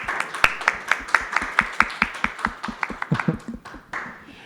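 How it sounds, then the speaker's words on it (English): Steady, evenly spaced hand clapping from a small group, crisp and close, fading out after a few seconds. "I'd like you guys to give a round of applause for"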